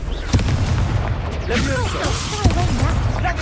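Confringo blasting spell explosions in Hogwarts Legacy, a dense run of booming blasts and crackling bursts with sharp peaks near the start and middle, continuous loud game action throughout.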